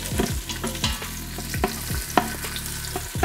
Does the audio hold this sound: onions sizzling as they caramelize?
yes